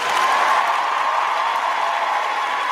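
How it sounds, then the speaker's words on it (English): Audience applause at an awards show, a continuous even wash of clapping from a crowd that holds steady throughout without talk over it. "We're going to let all 8 seconds of this applause go."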